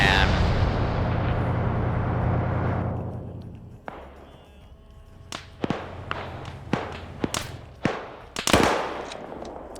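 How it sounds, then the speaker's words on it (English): Mortar and artillery fire in a video game, a long rumbling blast fading over a few seconds, then a scattered series of sharp distant and near impacts and shots, several loud cracks bunched toward the end. "I have the mortar position pre-ranged on that spot"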